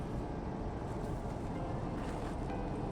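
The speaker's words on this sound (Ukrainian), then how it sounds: "у нас пропливає катер" Motorboat passing on a river during evening fishing, a steady broad engine and water rumble holding at an even level throughout, moderately distant and unbroken.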